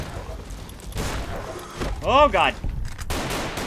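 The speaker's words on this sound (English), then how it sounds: "Throwing a beam grenade." A beam grenade thrown and detonating in Fallout: New Vegas, a short burst of bright, wavering energy-blast tones with thumps around it, while a man exclaims briefly over the action.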